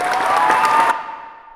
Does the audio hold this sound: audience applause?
yes